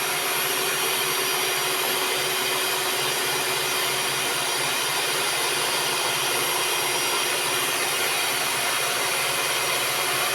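Electric mixer whipping beaten eggs with sugar for a sponge cake batter, a steady loud whirring hum running unchanged from start to finish with no other sounds.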